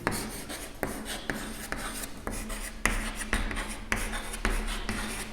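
Marker or chalk writing numbers on a board in a mathematics class, a run of short scratchy strokes with brief pauses between them, close and fairly loud, with no talk.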